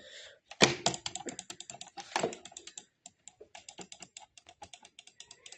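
Rapid typing on a computer keyboard, close and fairly loud: dense irregular bursts of clicking keys at first, then a steadier run of separate key presses, with no voices.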